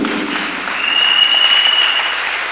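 A church congregation applauds in a sustained, dense wash of clapping that fills the room at close, loud level, holding steady for a few seconds with no speech over it.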